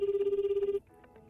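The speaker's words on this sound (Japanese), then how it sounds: "では電話します。" A telephone rings in a steady, rapid warbling pattern while a call is placed, then cuts off as the line connects and leaves a quieter background.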